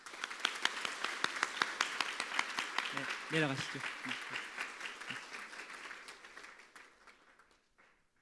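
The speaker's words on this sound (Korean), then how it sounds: "우리 인사할 때 큰 박수 해 주시기 바랍니다" A church congregation at a Sunday morning service claps for a couple as they bow, sustained applause that gradually fades out, with a voice speaking briefly over it midway.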